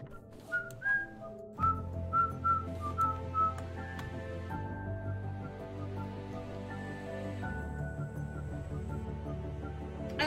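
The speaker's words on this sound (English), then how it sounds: "I like how she whistles to keep herself occupied." A game character whistles a wandering, cheerful tune in Raft, playing clearly and steadily over soft backing music, with no one talking.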